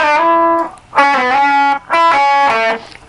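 Distorted electric guitar plays a solo lick, three sustained, overdriven bent notes ringing loud and close with short gaps between them.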